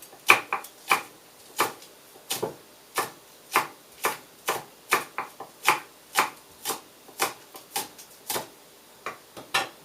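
A knife chopping green onions (scallions) on a cutting board, sharp distinct taps in a steady rhythm, about twenty cuts, close and clear with no talking.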